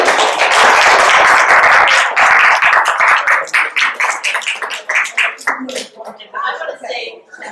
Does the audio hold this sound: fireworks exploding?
no